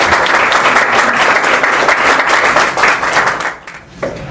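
Loud, dense audience applause for United Way at a community gathering, steady clapping for several seconds before trailing off near the end.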